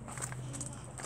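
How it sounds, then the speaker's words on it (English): Footsteps crunching on gravel outdoors in a garden, a quick run of faint, soft crunches under steady low background noise. "that's Keith, you can hear on the gravel"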